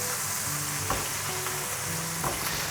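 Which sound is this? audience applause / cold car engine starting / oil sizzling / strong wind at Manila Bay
oil sizzling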